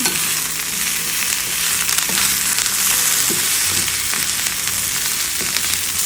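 Fried potatoes tossed with dried dill in a hot pan, a continuous sizzle with scraping stirs and occasional knocks of the utensil against the pan, close and alone.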